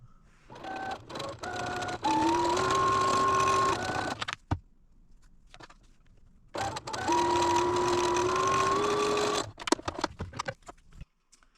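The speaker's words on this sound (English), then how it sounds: "let's go to the machine and take care of this right off" Domestic sewing machine stitching a quarter-inch seam on a half-square-triangle quilt block, running in two steady motorized bursts of a few seconds each, whirring with a rising tone, separated by quiet handling clicks.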